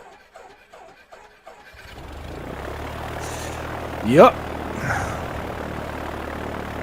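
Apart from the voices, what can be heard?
light aircraft engine starting and running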